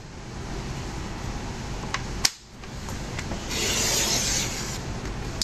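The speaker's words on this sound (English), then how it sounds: "And I'm just going to trim it. I'm going to cut it at 4 inches." A paper trimmer slices through a 12 by 12 sheet of stiff cardstock, cut at 4 inches: a sharp click as the blade engages, then a brief swelling rasp as it runs along the sheet, close and fairly loud with no talking.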